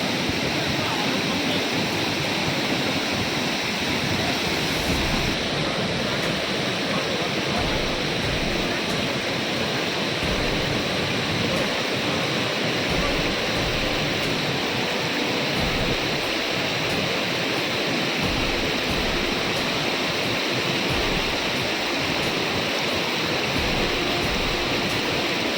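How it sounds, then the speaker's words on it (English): Jung Falls in Arunachal Pradesh, a waterfall fed by the Nuranang River, pours in a constant, dense roar of rushing water, loud and unbroken for the whole stretch. "stand here in person and look at this waterfall with your own two eyes"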